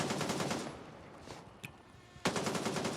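Enemy gunfire in the tactical shooter Gray Zone Warfare: rapid automatic bursts crackle through brush, fading briefly, then a single sharp shot before another loud close burst resumes.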